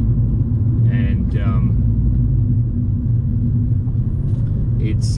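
A Fiat Abarth 695 Tributo Ferrari hot hatch cruising in third or fourth gear, with a steady low engine and road rumble filling the cabin and a few brief higher noises over it.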